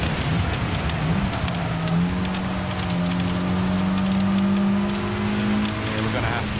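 Heavy rain pounding a race track in Gran Turismo 7, a steady dense hiss beneath a droning race car engine that shifts pitch through gears, with a driver talking over it.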